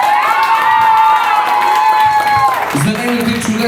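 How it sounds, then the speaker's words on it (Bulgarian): An audience at a Bulgarian folk event bursts into loud clapping and cheering, with shouts and whoops mixed in. A held sung or shouted tone rings above the crowd before the noise shifts. "Да чуем много силни аплодисменти за Пепа."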